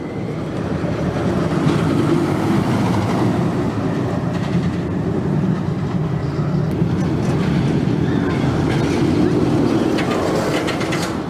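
Close, constant rumble and rattle of the ArieForce One roller coaster train riding its track at Fun Spot Atlanta, a steady roar of wheels and wind with faint clatter throughout and no pauses.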